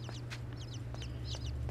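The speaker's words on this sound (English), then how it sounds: "I hear more chicks." Small chicks chirp in quick high peeps over a steady low hum in the side-scrolling video game INSIDE, with short clucking calls repeating softly throughout.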